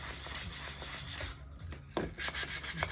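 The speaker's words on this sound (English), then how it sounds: "So we're just sanding it off." Sandpaper rasps against a small Dollar Tree wooden crate in quick back-and-forth rubbing strokes, close and fairly quiet, with a brief pause partway through and no talking.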